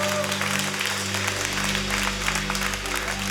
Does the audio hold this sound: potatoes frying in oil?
no